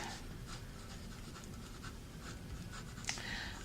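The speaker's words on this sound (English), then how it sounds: "So over here, I will write" A pencil or pen scratches out a sentence by hand during a math lesson, soft intermittent strokes and taps close by against a quiet hiss.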